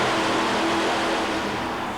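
A 1971 Ford Bronco running about 650 horsepower roars through a mud bog at an indoor arena event, its engine a loud, steady, continuous drone with dense broadband noise and no pauses.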